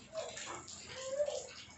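A dog whimpering softly, a few faint high whines close by in an otherwise quiet space.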